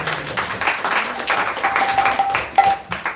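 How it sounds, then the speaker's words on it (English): Applause from an audience at a Srimad Bhagavatam installation gathering: a steady patter of clapping that holds for a few seconds at moderate level, with a faint tone and some voices mixed in. "So let's give them a big round of applause"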